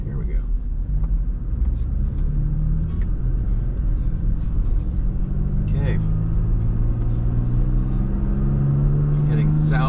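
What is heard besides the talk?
car traffic on road while driving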